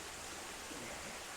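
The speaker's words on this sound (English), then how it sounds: "It's got a big hole right in the center where the water's coming off." Water pours over Stinging Fork Falls, a partly frozen waterfall, as a soft, constant wash of distant rushing with no breaks.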